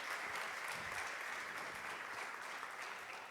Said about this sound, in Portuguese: Eu queria que vocês dessem uma salva de palmas agora